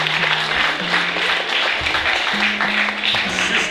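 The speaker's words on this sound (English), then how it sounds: "Give Sister Dawn a round of applause, please." Steady, dense applause from a crowd, continuous and fairly loud throughout, with a low sustained tone running underneath.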